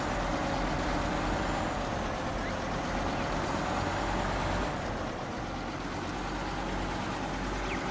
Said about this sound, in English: Most of this kind of driving is pretty straightforward for the Mercer.